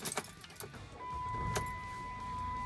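Van engine cranking and starting up after a speed sensor and hub repair, a short rattle of keys followed by the engine catching into a steady idle hum, close by.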